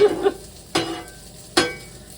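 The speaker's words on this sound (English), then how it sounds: "let's get this sausage cooking first. Get it on the griddle." Sausage cooking on a griddle, with a soft continuous sizzle broken by three sharp scrapes or pokes, close and moderately quiet, with no talking.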